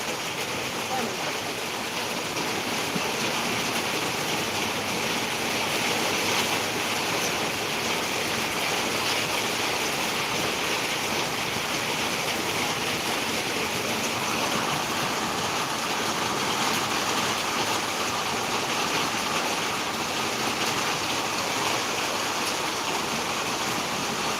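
Rain pouring down outdoors in Akluj on a day of harsh sun, a dense, steady wash of broadband hiss that holds evenly throughout with no break, close and fairly loud, with no voices over it.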